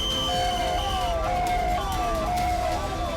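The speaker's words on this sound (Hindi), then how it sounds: "घटना के बाद मौके पर कई एम्बुलेंस को जाते देखा गया।" An ambulance siren at the scene of the Maha Kumbh stampede wails in repeating rising and falling sweeps, loud and steady over a constant rumble of background noise.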